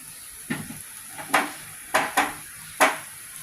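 Oil sizzling in a frying pan of broccoli, poured into the middle for an egg, with several short bursts of hiss and crackle rising and fading, close by and moderately loud, no talking.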